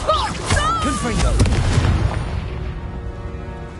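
A Confringo spell blast in the Hogwarts Legacy video game: a loud booming explosion with a ringing magical tail, with voices and other effects mixed in as the roar fades out.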